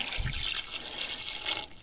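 Water poured into a pot of fried meat makes a steady splashing, running rush throughout, with a low gurgle near the start and a brief swell toward the end, no voices.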